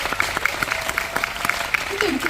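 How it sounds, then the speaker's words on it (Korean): Audience applause at a film screening talk event, a steady dense wash of clapping throughout, with talking under it. "박수 부탁드릴게요"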